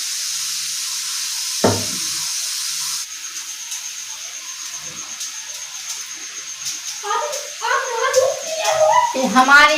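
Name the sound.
oil sizzling when sprinkled into a hot kadai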